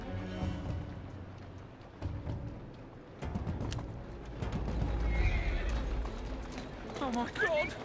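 Galloping hooves clatter steadily while a horse whinnies loudly near the end in Assassin's Creed Syndicate, with voices talking over the game sounds.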